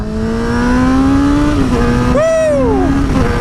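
A Honda CBR600rr sport motorcycle revs hard and accelerates, its engine tone climbing steadily, dipping briefly at a gear change, then rising again. The sound is loud and close, with wind noise and no talking.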